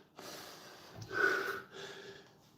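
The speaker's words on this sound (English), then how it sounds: "I cannot even control my breathing. It's getting out of hand." Heavy, ragged breathing close by during a push-up challenge, a few sharp gasping inhales and rough exhales with short pauses between them.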